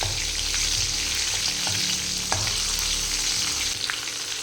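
Four red chillies frying in a pan, a loud continuous sizzle with light stirring scrapes, close and without any talk.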